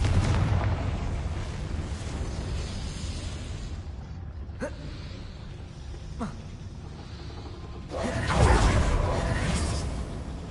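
Confringo spell explosions in the video game Hogwarts Legacy, a dense rumbling blast bed with sharp bursts near the five- and six-second marks and a louder surge near the end.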